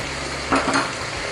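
A spatula scrapes and stirs stir-fried spicy shark with holy basil in a pan off the heat, giving two quick close clanks over a steady soft hiss.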